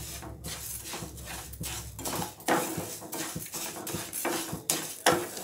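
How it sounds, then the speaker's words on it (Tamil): Moong dal dry-roasting in a pan while a spatula stirs it, giving repeated close scraping and clattering strokes against the metal at an uneven pace, with no speech. "பாசிப்பருப்பு வாசனை வர வரைக்கும் வறுத்துக்கலாம்"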